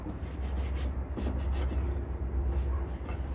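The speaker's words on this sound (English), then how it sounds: "go back over with paper towel to clean off the residue and everything else" Paper towel wipes thick grease residue off a BBQ grill, making a short, close, continuous rubbing and scuffing sound over a steady low background hum, without speech.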